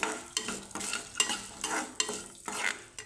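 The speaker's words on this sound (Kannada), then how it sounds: "ಒಂದು ಹಿಡಿಯಷ್ಟು ಶೇಂಗಾ ಬೀಜನ ಹಾಕ್ಕೊಳ್ತಾ ಇದ್ದೀನಿ ಹಾಕ್ಕೊಂಡ್ಬಿಟ್ಟು ಚೆನ್ನಾಗಿ ಹುರ್ಕೋಬೇಕು" Cashews, almonds and peanuts dry-roasting in a pan, stirred in repeated scraping strokes about every half second, with a light sizzle between the close, rhythmic bursts.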